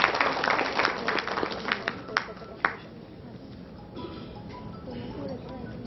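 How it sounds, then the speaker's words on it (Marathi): An audience at a lecture-series event applauds, a burst of clapping with a few sharp claps standing out, then fading into quieter room noise and murmuring. "जोरदार टाळ्या आपण स्वागत करूया."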